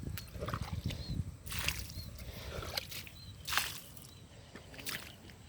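Water splashes and sloshes as curly chili plants are watered in a garden, coming in several separate wet gushes against a faint, quiet background.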